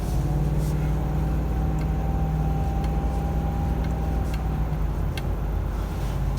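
A truck is driven held in sixth gear, its engine a steady, loud drone blended with continuous road rumble, heard from inside the cab with no speech.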